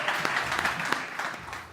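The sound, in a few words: audience applauding a panel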